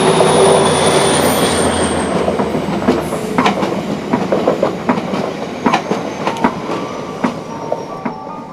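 A train rolls past near the railway station of Navas de Navarro, giving a loud steady rumble with a rhythmic clickety-clack of wheels over rail joints and a high squeal that fades slowly as it goes by.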